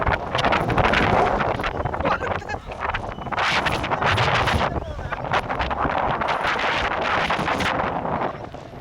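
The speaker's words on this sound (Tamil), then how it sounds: "சென்னை அடுத்த பூந்தமல்லி பகுதியில் புழுதியுடன் வீசிய பலத்த காற்று." Strong, dust-laden wind gusting across open ground in Poonamallee near Chennai, a loud continuous roar buffeting the microphone with surging gusts throughout.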